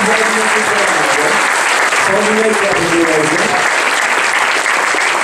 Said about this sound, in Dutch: alle ouders die erbij betrokken zijn, wil ik graag een groot applaus geven